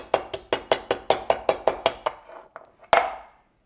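Rapid series of about ten sharp chopping strikes on a large block of ice, each a crisp crack, then a pause and a few scattered heavier chops.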